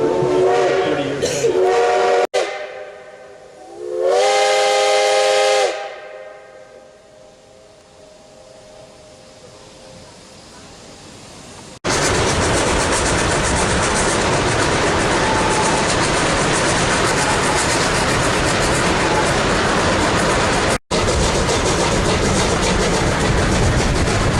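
A steam locomotive on the Durango & Silverton Narrow Gauge Railroad gives two loud whistle blasts, then goes quiet before a long, loud hiss of steam while it takes on water from a converted rail tank car.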